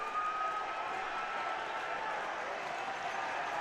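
Crowd noise at an ice hockey game in the Akins Ford Arena, a steady broad roar with scattered clapping reacting to a hit on the ice, sustained and fairly distant throughout.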